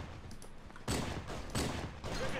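Bursts of gunfire from the Halo SPV3.2 shooter, fired at wildlife, come as three loud, close volleys after a quieter opening.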